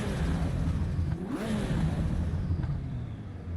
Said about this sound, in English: Oh, Ferrari noises.